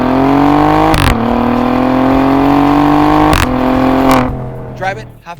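An Alfa Romeo Giulia Quadrifoglio GTAm engine revs hard and loud up close, climbing in pitch through two quick gear-change breaks before the roar backs off and fades into lighter burbles.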